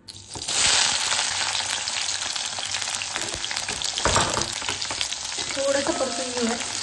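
Green chilies sautéing in hot oil for sabudana khichdi, a bright, close sizzle rising sharply at the start and holding steady with occasional stirring scrapes of the spatula.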